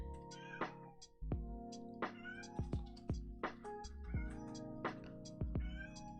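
A house cat meows repeatedly and insistently, a string of loud, close calls at irregular intervals over a low steady hum in a quiet room.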